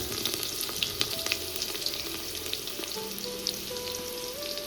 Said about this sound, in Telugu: ఇప్పుడు ఆయిల్ వేడైందండి. ఉల్లిపాయలు వేసుకున్నా.